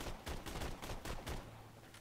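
A gun in the video game Borderlands 2 fires rapidly, about seven sharp shots in quick even succession, then stops, leaving a low hum.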